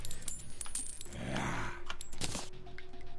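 Coins spill and clink in Terraria, a rapid metallic jingling scattered across a few seconds, bright and close with a few sharper pickup chimes over quiet game background.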